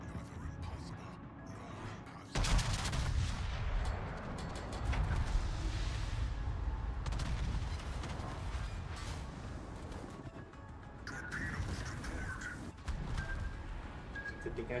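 Heavy ship guns booming in the naval video game World of Warships, several deep blasts with rumbling tails spread across the clip, with someone talking over the battle.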